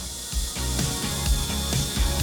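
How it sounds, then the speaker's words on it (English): A drill bores a guide hole through a hole guide into a broken Moen Posi-Temp shower cartridge, giving close, rhythmic grinding pulses as the bit bites and catches. "Take the drill, put it in that hole guide, and"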